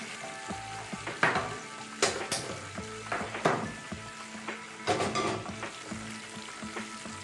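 Prawns frying in hot oil on a stove, a steady crackling sizzle punctuated by several louder bursts of spattering and stirring, close and with no voices.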